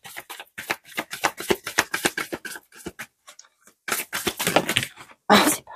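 Tarot cards being shuffled close up in rapid bursts of riffling flicks, a brief pause midway, then more shuffling ending in a louder burst.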